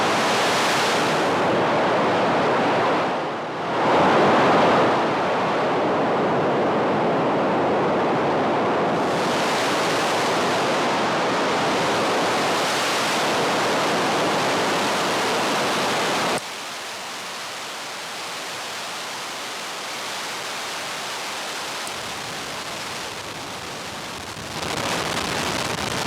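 No-input mixing board feedback routed through a fuzz pedal, a dense wash of loud, steady roaring noise like surf that shifts in tone and drops in level partway through, with no talking.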